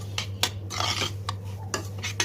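Flour being roasted and stirred in a pan for helva, with repeated close scraping and clinking of a metal spoon against the pan over a low steady hum.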